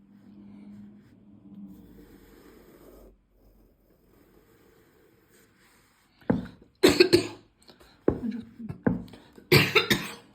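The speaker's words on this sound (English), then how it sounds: "Sorry, I've got my silly cough." After a quiet stretch with faint low sounds, a run of harsh, close coughs breaks out in irregular bursts, loud and repeated.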